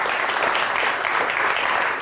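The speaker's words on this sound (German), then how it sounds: "Das ist der Applaus für unsere Netzjury." Steady applause from a studio audience for an online jury on a German TV discussion show about basic income, dense and even throughout at moderate level with no voices.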